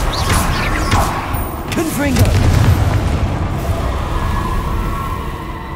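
A Confringo spell in Hogwarts Legacy, cast in a duel, bursts with a loud booming explosion over a dense bed of game effects and rumble, while a voice speaks briefly over it.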